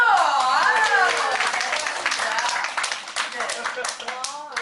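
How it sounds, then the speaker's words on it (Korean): An audience claps together at the opening of a networking seminar, a dense stretch of applause heard beneath lively voices that carry over it, with the clapping thinning out toward the end. "와, 박수!"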